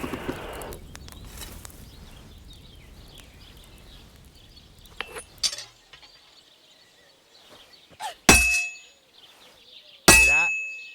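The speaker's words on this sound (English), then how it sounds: "you can tell a good strike by the sound it makes" Hammer blows on a heated sword blade at an anvil in the medieval game Kingdom Come Deliverance 2, with two loud ringing metallic clangs late on after quieter workshop ambience and a softer knock.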